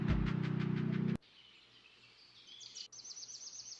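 Recorded bird sounds played back as nature sounds: after a brief loud burst, faint repeated high chirps and tweets come through quietly, thin and distant.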